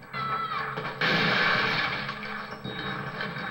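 In the Resident Evil 4 video game, a single loud, close gunshot booms with a brief reverberant tail, set against ongoing game sound.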